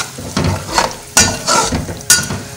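Fennel and mustard seeds fry in a pan for pickle, giving close crackling sizzle with several loud scraping stirs of a spoon against the metal, in irregular bursts.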